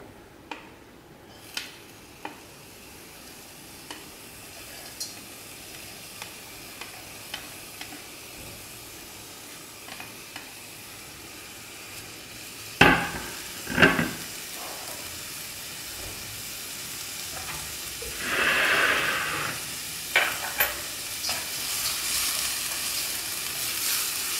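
Ginger and garlic sizzle and hiss softly in oil in a pan, with occasional clicks and a couple of louder bursts of spattering partway through.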